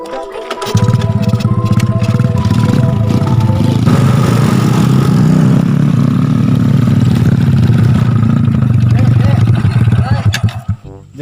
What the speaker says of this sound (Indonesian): Oh, motor teh.